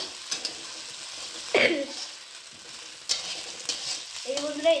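Spices hit hot oil for a Bengali gogni dish, giving a sputtering, splattering sizzle with a sharp burst in the middle and crackles near the end, close and moderately loud.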